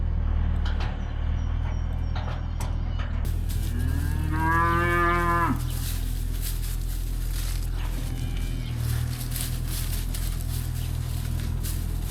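Heifers on a farm give a single drawn-out moo, loud and close, over steady low rumbling background noise with occasional clatter.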